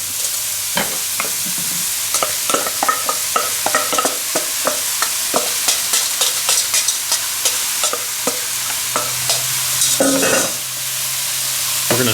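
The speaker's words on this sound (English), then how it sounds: "stir these around, and we're gonna let them saute for about 3 to 4 minutes" Mushrooms sautéing in an electric skillet turned up to 400 degrees, with a steady sizzle beneath repeated scraping and clattering strokes of a utensil stirring them, close and fairly loud.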